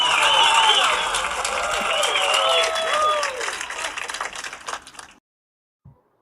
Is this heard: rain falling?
no